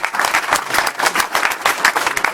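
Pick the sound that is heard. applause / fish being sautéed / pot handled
applause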